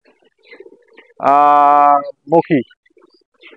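A Siraji pigeon perched on a mango tree branch gives one sustained, fairly loud harmonic call followed by two short pulses, with faint background noise and quiet stretches around it.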